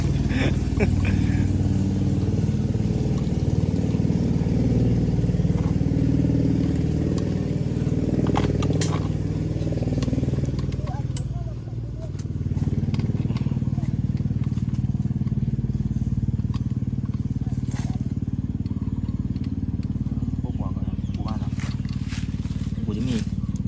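A 63cc boat engine runs steadily and loudly throughout, a continuous buzzing drone with a brief dip in the middle and a few clattering ticks on top.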